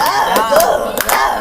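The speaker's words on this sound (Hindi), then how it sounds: "ताली बजाओ लोगो" A group of people clap their hands in a short burst of scattered, overlapping claps during a Bhojpuri comedy lockdown-class skit, with voices and a sung tune running underneath.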